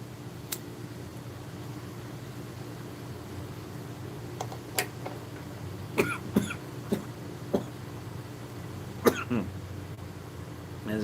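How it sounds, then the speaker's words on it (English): A man coughs and clears his throat repeatedly after smoking rustic pipe tobacco, a series of soft, short coughs scattered over a steady fan-like hum in a quiet room. "so it does make me cough"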